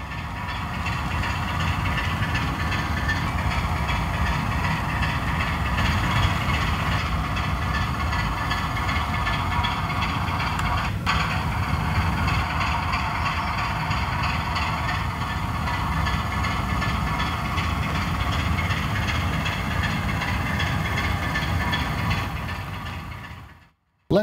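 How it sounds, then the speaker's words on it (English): Two model railway locomotives run together on one stretch of track under digital command control, making a steady, loud, continuous mechanical whir and hum that carries on unbroken for over twenty seconds. "we've now got those two locomotives running on the same piece of track"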